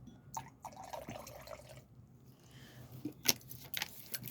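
A drink poured into a glass: soft liquid trickling and clinking close by, ending in a couple of sharper splashes and taps, with low room noise and no speech.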